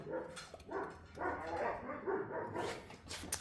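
Puppies bark and yip in a quick, uneven run of high calls that are close but fairly soft, with faint whimpering mixed in.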